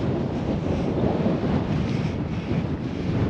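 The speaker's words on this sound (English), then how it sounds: "That wind is brutal." Strong wind buffets the microphone high on a snowy Cairngorms mountain, a loud continuous roar with gusty rises and falls and no pauses throughout.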